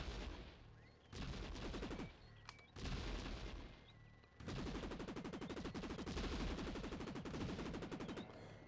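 Rapid bursts of gunfire from the video game Buck Bumble, loud rattling volleys that stop and restart several times before a long sustained stream of shots.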